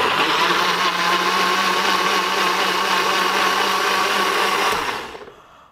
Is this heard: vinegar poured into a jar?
no